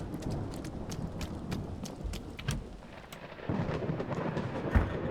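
Steady rain falls outside Blake Manor in the game Séance of Blake Manor, with low thunder rumbling through it and a sharp heavier crack near the end.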